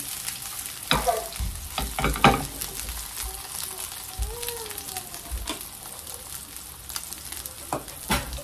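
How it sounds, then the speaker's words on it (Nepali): Food frying in a frying pan, a steady close sizzle broken by repeated stirring clatters and scrapes, no talking. "यसलाई चाहिँ मैले फ्राई गर्नलाई यहाँनिर फ्राई प्यानमा पनि लगाइसकेँ।"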